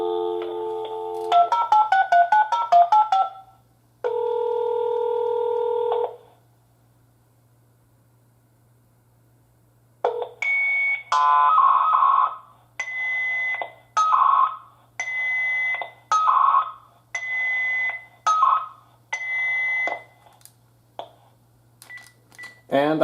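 Security alarm dialer (DACT) sending SIA-format FSK tones down a phone line: a burst of warbling tones, a steady held tone, a pause, then a rapid run of repeated tone pulses, all clean and loud.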